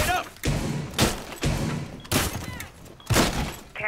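Window barricade going up in Rainbow Six Siege, a string of heavy wooden thuds and impacts spaced roughly every half second, loud and close, with game sounds around them.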